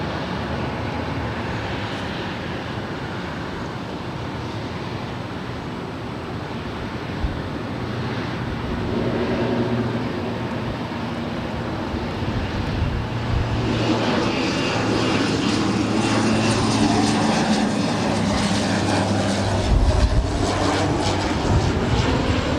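An Asiana Airbus A350-900 jet at Los Angeles airport gives a loud, sustained engine roar that swells over time with a rushing, windy hiss, heard from outdoors with no voices.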